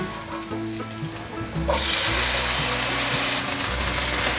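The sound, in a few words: stir-frying tomatoes with celery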